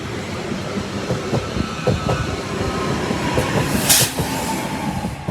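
A Class 331 train rolling through a level crossing as it slows to stop, with a steady rail rumble, rhythmic wheel clicks over the joints and a brief squeal, loud and nearby with no speech.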